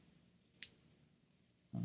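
Ribbon scissors snip once with a short, crisp cut in a quiet indoor craft setting, followed by a louder thud or handling noise at the end.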